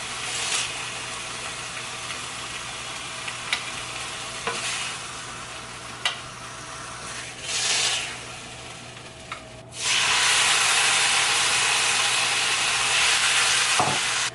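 Food searing in a pan that is too small, giving a steady frying hiss with scattered light clicks and pops; the sizzle swells suddenly and loudly toward the end, close up and without speech.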